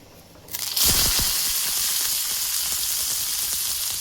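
Chopped onions drop into hot oil in a pan, setting off a sudden loud sizzle that settles into a steady, close, continuous frying hiss.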